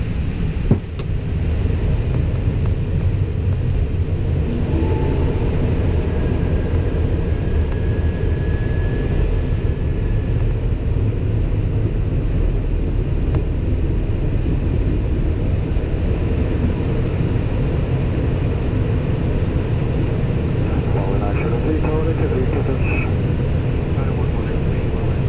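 An Airbus A320 descending on final approach in a flight simulator gives a steady, loud broadband engine and airflow drone that runs unbroken throughout, with a few faint cockpit tones and a brief click near the start.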